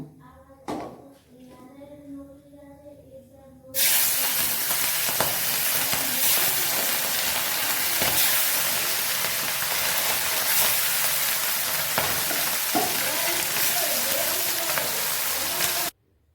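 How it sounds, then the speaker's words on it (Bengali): Tengra fish hit hot oil in a wok with a loud, steady sizzle and spatter that runs for about twelve seconds, after a brief quieter stretch with a few clinks and faint voice at the start. "কড়াইয়ের তেলটা গরম হয়ে গেছে, এখন আমি মাছটা ভেজে নেব।"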